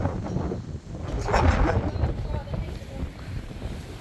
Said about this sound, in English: So windy, isn't it?